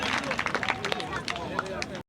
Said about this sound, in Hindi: साथियों एक बार इनके लिए भी जोरदार तालियां